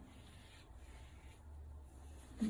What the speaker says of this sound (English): you can also take a little bit of slip and just keep rubbing it till you don't see it anymore